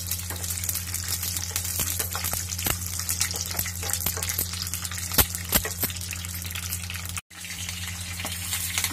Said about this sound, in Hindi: अब इसी में तेल डाल के ये परवर को भी फ्राई कर लेंगे